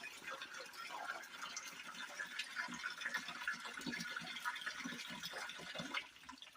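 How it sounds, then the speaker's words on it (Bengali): Water trickling and draining down from a prepared spot while making a daphnia culture, a soft steady flow with small irregular splashes and drips, fairly faint, no talking. "দেখছেন জলগুলো নিচে দিয়ে গড়াচ্ছে।"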